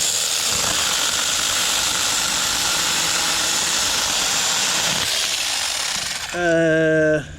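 A battery-powered mini chainsaw cuts through a thick tree branch with a loud, steady rasping buzz, then the cut finishes and the motor runs free in a brief, higher-pitched whine.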